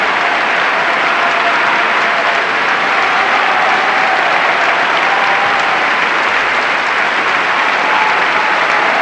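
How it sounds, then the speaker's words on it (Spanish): An opera audience at the Teatre del Liceu applauds after a 1989 Luciano Pavarotti recital, with dense, sustained clapping from a large crowd and no pause. "Aquí sale también Leone Maviera a recoger los aplausos del público"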